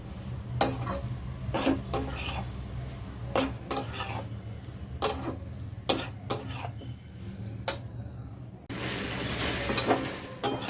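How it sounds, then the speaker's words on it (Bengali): Dry red chillies stirred in a wok while cooking potato curry and pea kachori, giving repeated close scraping and clinking strokes of a utensil against the pan, with quiet sizzling between them. "দিয়ে ভালো করে নাড়াচাড়া করবো এবারে"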